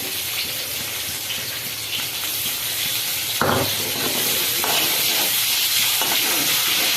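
Chopped onion and green chilli fry in plenty of oil in a pan, a steady loud sizzle throughout, stirred partway through, with no talking.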